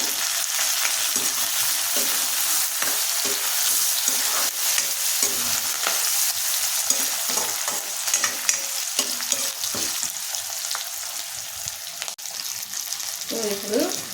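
Sliced onions, curry leaves and four green chilies fry in hot oil in a pan, a steady bright sizzle with stirring scrapes running throughout, close and loud with no talk.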